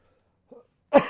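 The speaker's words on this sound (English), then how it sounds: "I still, for whatever reason, have a slight cough going on." A single person gives a light cough, preceded by a faint throat sound, short and close in otherwise quiet surroundings.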